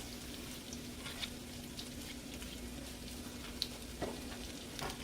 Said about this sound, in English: I'm going to be throwing me some chopped onions down in here